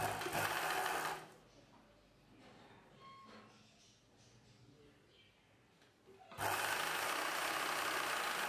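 A sewing machine stitching the lining of a blouse whirs in a fast, steady drone at the start, goes quiet for several seconds, then starts up again and runs to the end, close by.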